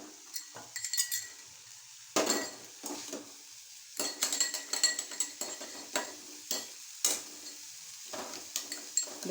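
A cauliflower and egg mixture stirred in a pan, with repeated close clinks and scrapes of a spatula against metal over a faint sizzle, irregular bursts of stirring.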